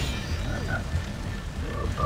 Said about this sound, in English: I hear a frog. Am I crazy? Or is there a frog?